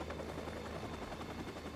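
A helicopter in the video game Watch Dogs circles overhead, its steady rotor thrum droning at moderate distance, a continuous low chopping hum with no voices over it.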